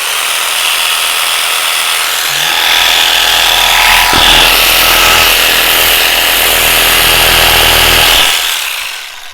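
A handheld percussion massage gun used for muscle release runs loudly and steadily for about eight seconds, a dense buzzing motor whir with a brief thump partway through, then cuts off near the end.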